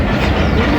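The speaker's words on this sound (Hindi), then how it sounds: "तो ऑन टाइम मूव हो रही है 8 टाउन तेज़गाम।" The 8Dn Tezgam Express pulls out of Rawalpindi railway station, heard as a loud, steady rumble of rolling wagons with continuous rail clatter close by.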